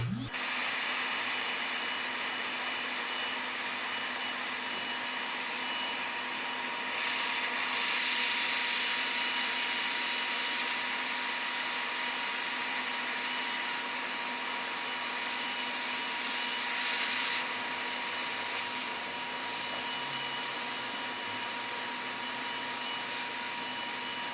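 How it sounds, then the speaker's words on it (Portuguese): A vacuum cleaner drones steadily and loudly through die-cutting and margin-trimming work, with a whining, drill-like tone over a continuous broadband rush and no talking. "Vou ligar o aspirador aqui novamente."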